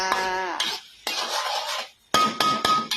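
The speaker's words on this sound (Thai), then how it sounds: "เคาะกระทะค่ะ" Several sharp metallic clanks of a utensil striking a wok, with ringing tones between bursts, then three quick taps near the end, loud and close.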